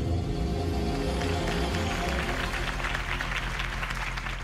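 Loud, steady applause from a large crowd in the video game Batman: The Telltale Series, dense clapping filling the whole clip with a low musical drone underneath that fades as the clapping swells.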